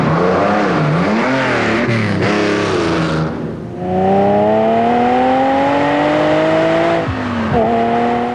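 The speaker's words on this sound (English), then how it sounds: "The car he is driving is a Lamborghini." A Lamborghini Countach sports car engine revs loudly, pitch climbing through gears with smooth harmonic whine, a brief gap, then a long rising acceleration and a shift near the end.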